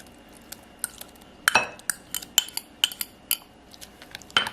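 A utensil mixes shrimp into kimchi pancake batter with tofu in a bowl, giving light, irregular clinks and scrapes against the dish that come in a quick cluster and then keep tapping, close and fairly quiet.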